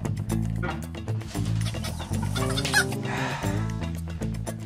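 Chickens cluck near a coop in a Turkish TV drama scene, the calls fairly faint and mixed under steady, loud background music.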